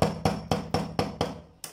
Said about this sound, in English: I'm going to place it under an iron and just try to hammer.